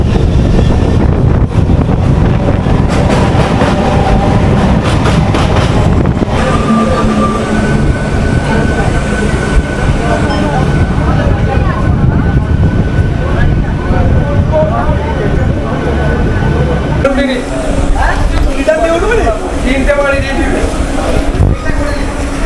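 A Howrah–Digha local train rumbles loudly near Uluberia station, with rattling carriages, clacking wheels and a sustained electric whine, and voices talking over the din.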